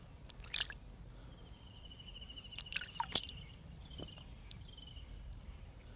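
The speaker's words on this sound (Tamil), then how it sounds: "இப்போ நான் தண்ணி எடுத்து அதில் ஊற்றுறேன் பாருங்க" Water poured onto a lotus leaf gives sparse, faint drips and small splashes, a few clustered droplets against a quiet background, with no voices.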